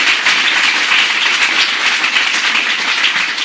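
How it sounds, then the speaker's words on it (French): A conference audience applauds continuously, a dense, even patter of many hands clapping at a moderate distance. "déjà on peut les applaudir"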